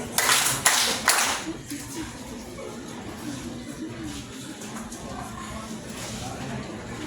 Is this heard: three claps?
yes